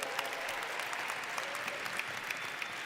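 An audience claps steadily, a dense patter of many hands in a room, sustained without a pause.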